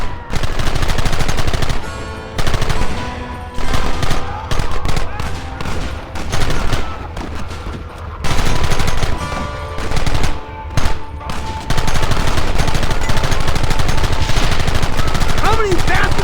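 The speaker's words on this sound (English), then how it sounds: "Targets on the horizon! Fire at will!" Heavy gunfire in a Red Dead Redemption battle: loud, close bursts of rapid rifle and machine-gun shots overlap in a dense, near-continuous barrage, pausing only briefly between volleys.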